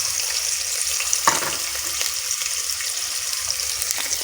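Onions sizzling with minced meat in a stew pot, a steady close frying hiss with a brief louder scrape of stirring near the start.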